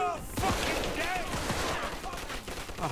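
Loud bursts of gunfire in the crime game Mafia 2, rapid repeated shots forming a fusillade up close, with people talking over the shooting.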